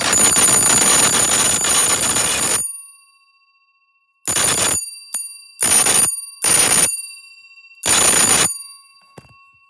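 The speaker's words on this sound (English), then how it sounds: "The bell's very loud." A loud fire alarm bell rings hard for a few seconds, stops, then sounds again in several short bursts, harsh and metallic, close up indoors.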